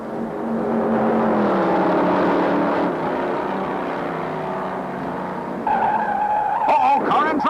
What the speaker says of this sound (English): smashes a guardrail and spins off the high bank first turn